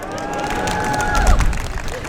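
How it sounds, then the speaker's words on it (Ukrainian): An outdoor crowd cheers and applauds a young performer named Denys at a Christmas concert on a town market square, a loud, steady wash of clapping and shouts with a brief whistle-like tone above it. "Для Дениса оплески"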